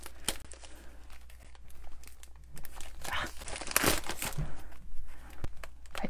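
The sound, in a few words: scissors slicing open plastic wrap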